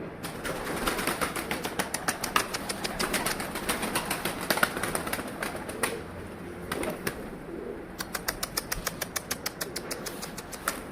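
Feather-footed bol paça pigeons flapping onto a roof, bursts of rapid wingbeats in quick rhythmic trains, close and moderately loud, with a lull before a final flurry.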